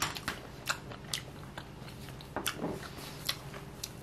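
Someone eats a fried king oyster mushroom pancake close to the mic, with soft irregular bites and crunchy chewing clicks over a quiet room, without any talk.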